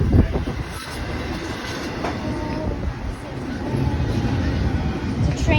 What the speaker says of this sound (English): It's an EC-44 train.